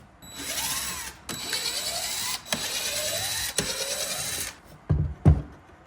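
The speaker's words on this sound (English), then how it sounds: "And now I need to unscrew these 4 mounting screws to be able to lift this whole thing up." A ratchet wrench turns out the mounting screws of a router table, giving long runs of close, rapid clicking broken by short pauses, then a few louder knocks at the end.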